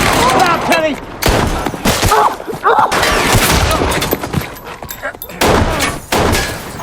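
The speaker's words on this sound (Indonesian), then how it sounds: "terjadilah adu tembak" Gunfire in a film shootout crackles in rapid bursts of shots, loud and close, separated by brief gaps, with spoken voices mixed between the volleys.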